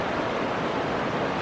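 Bear Creek rushes steadily at a trail crossing, a dense, constant broadband wash of flowing water heard close and loud, with no voices.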